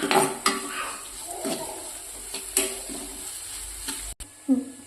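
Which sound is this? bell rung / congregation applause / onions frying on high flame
onions frying on high flame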